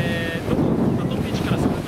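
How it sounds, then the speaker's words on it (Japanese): Strong wind at Nai Harn Beach in Phuket buffets the microphone with a continuous low rumbling roar, and a faint thin tone is heard at the very start. "風がね、結構強いんです"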